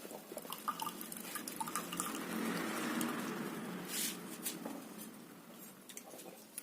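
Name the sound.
fresh juice poured into a glass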